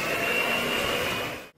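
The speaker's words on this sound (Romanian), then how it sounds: "Și acum se amestecă cu mixerul." An electric hand mixer whirs steadily at close range as it beats batter for a rum-flavoured walnut-filled fruitcake, then stops abruptly after about a second and a half.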